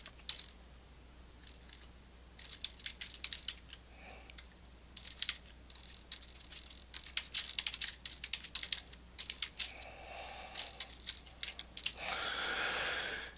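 Typing on a computer keyboard while filling in a support ticket, with bursts of quick key clicks separated by short pauses and a longer rushing noise near the end; no one talks.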